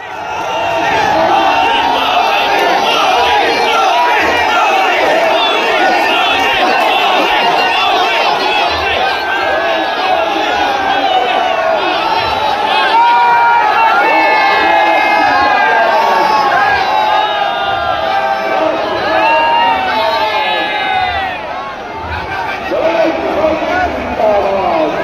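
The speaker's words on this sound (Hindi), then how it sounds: "समर्थकों की उमड़ी जबरदस्त भीड़।" A large crowd of supporters cheers and shouts without a break at Prime Minister Modi's road show in Kanpur, a loud, dense roar of voices and whoops that lasts throughout.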